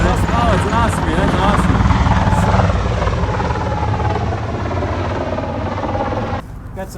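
An Osprey tiltrotor aircraft passes overhead with a loud, steady rotor thrum and throbbing drone. A person talks near the start, and the sound cuts off abruptly near the end.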